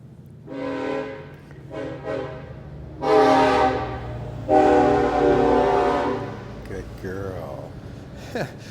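A train passes on tracks close by with a long, loud horn sounding in several blasts, the rumble of the cars underneath, heard outdoors at a dog training center.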